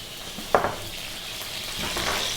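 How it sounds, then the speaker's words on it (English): Sliced red onion frying in a pan over fairly low heat, a soft steady sizzle opened by a sharp clink of a utensil against the pan. "we're next going to go straight in here with some onion and some other ingredients"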